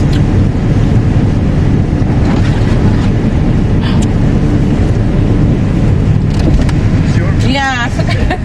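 An automatic car wash runs around a car, a steady loud broadband rush and rumble of spraying water and machinery, with voices talking over it inside the car.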